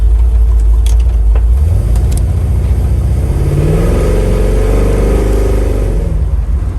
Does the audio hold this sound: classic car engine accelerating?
yes